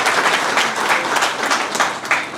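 A crowd at a Chhattisgarhi event remembering Laxman Masturiya gives loud, sustained applause for a Chhattisgarhi film actor, dense clapping throughout with slight swells.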